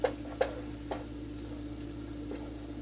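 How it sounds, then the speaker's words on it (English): Sofrito sauce cooking down in a pot with a soft, steady simmering hiss, broken by a couple of sharp utensil clinks near the start and a few fainter taps later. "Let that cook down some so you get fully incorporated with your sofrito."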